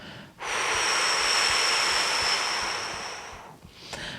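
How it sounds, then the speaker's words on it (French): A long, full exhale through the mouth during a vinyasa yoga breathing exercise, a loud airy rush lasting about three seconds, close and alone, then a quiet pause. "Et on expire complètement par la bouche,"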